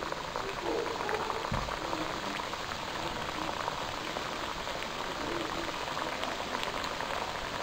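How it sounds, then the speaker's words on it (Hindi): Mathi dough pieces fry in hot oil, giving a steady, dense sizzle and bubbling that holds evenly throughout, close and fairly loud with no pauses. "ऑयल अच्छे से गर्म हो चुका है, मट्ठी डाल लेंगे इसमें फ्राई करने के लिए"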